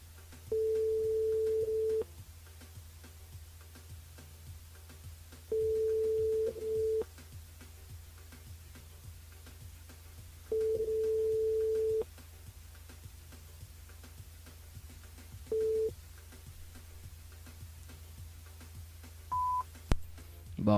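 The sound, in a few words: telephone dialing and ringing during a radio call-in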